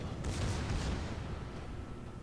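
Heavy ship guns firing a salvo in a naval battle video game, a deep, booming rumble of overlapping blasts that swells early and then rolls on steadily.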